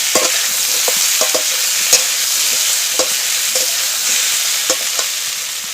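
A ground spice paste with turmeric stir-fries in hot oil for Bengali sukto, giving a loud, continuous sizzle with repeated sharp scrapes and taps of a spoon stirring, close up and with no speech.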